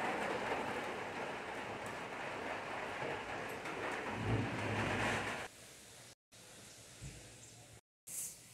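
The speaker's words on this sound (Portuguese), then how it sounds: "E caiu a chuvinha, né, gente? Caiu a chuva." Rain falling outdoors, a steady dense hiss of drops that grows quieter partway through, with a few brief dropouts.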